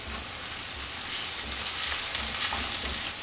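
Ginger, garlic and mild green chilies sauté in a hot pan, giving a steady, close, broadband sizzle that holds evenly for a few seconds with no voices.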